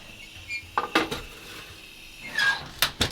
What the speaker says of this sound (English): And it's going onto the pizza stone.